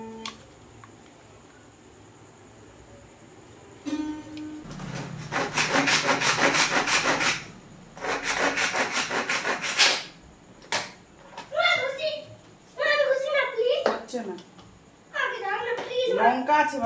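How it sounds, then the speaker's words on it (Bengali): A knife chops vegetables on a board in a kitchen, giving bursts of rapid close rhythmic cutting strokes separated by short pauses, while people talk in between. "ততক্ষণে এটা যে রেখেছিলাম সেটা কুচিয়ে নিই"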